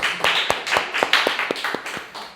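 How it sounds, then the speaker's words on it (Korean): A small group at a church worship service clapping in a quick, slightly uneven rhythm for a couple of seconds, close by, with no voices over it. "우리 성섭이 박수 한번 주죠"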